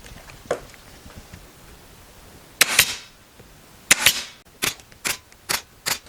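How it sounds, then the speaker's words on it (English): A staple gun fires 14mm staples through fabric and a cardboard strip into an armchair frame during reupholstering: a faint snap, then several sharp, close clacks in a quick irregular series. "So I staple close to the edge to make sure it doesn't fold."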